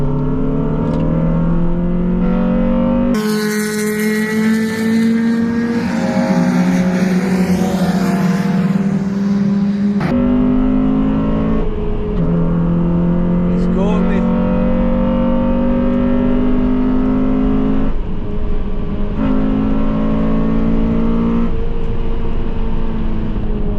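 A car on a race-track day runs hard and close, its engine climbing through the revs, cutting off abruptly on shifts, then climbing again over a constant wind roar.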